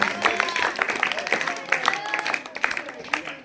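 A small group of coaching-centre students claps steadily and close, the applause sustained and lively for a few seconds before thinning out.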